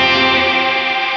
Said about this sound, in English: The more reverb you have,